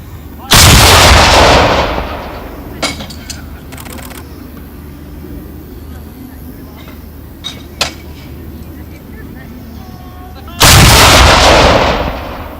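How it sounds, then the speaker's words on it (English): An artillery piece fired as the noonday gun at a war and peace event in Kent, two loud booming shots about ten seconds apart, each with a long rolling decay, with faint crowd sounds and clicks between them. "That was the noonday gun."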